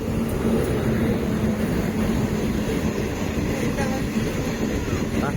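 A Thiruvarur MEMU passenger train runs steadily on rails near Vaitheeswaran Koil, a continuous loud rumble with faint wheel clatter throughout and no talk.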